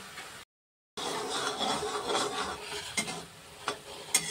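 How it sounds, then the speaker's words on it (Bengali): Fried puti fish is stirred into a sour tamarind gravy in a home kitchen, with soft scraping and bubbling under gentle spoon clinks and a few sharper taps, after a brief silent gap. "ভাজা পুঁটি মাছটা দিয়ে দিলাম ওর মধ্যে"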